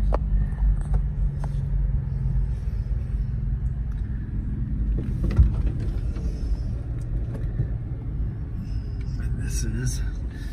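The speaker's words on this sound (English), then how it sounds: "now we're driving into the driveway" A car rolling slowly into a residential driveway off an access road, a steady low engine and tyre rumble throughout, with a person talking over it.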